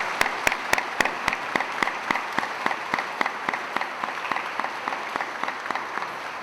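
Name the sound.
audience applause at a school convocation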